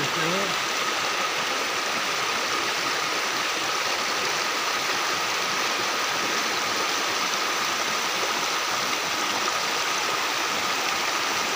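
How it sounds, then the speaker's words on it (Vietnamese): Natural stream of water flowing down from rice fields above, a steady broadband rush that continues unbroken throughout, with a brief faint voice at the very start. "Đây là nước chảy từ trên ruộng, trên ruộng trên kia nó chảy xuống như vậy rồi."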